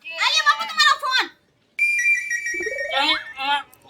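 A mobile phone rings with a steady electronic tone, sounding briefly between bursts of lively voices in a comedy scene.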